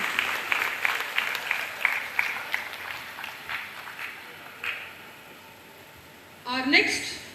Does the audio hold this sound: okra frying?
no